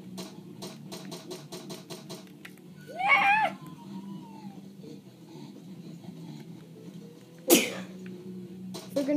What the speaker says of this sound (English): Sorry about me sneezing.